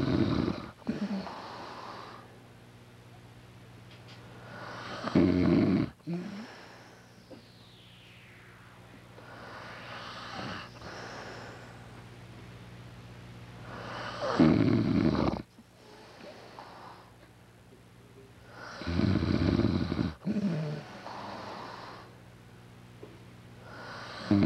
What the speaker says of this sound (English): this is the actual sound of the Sasquatch snoring